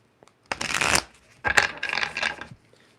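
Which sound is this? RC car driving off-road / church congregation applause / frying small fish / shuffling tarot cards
shuffling tarot cards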